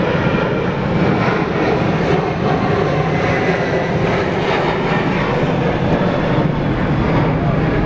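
Airplane engines roar loudly and steadily at Sydney International Airport, a close, continuous broadband drone that holds without a break.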